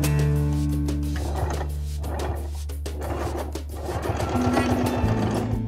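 A sewing machine stitches down the pockets of a men's vest, running as a steady close mechanical whirr with a fast rhythmic clatter throughout, loud and with no talking.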